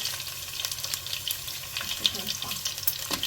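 Green chillies hiss and crackle as they hit garlic frying in ghee, a steady sizzle with stirring underneath and a few small pops.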